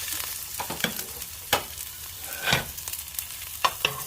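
Garlic sautés in olive oil with a steady, soft sizzle, broken by a few sharp spatula scrapes and taps against the pan.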